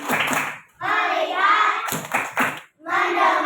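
A class of children claps a rhythmic focus-clap routine in a classroom, bursts of group clapping separated by short pauses, with children chanting along between the claps.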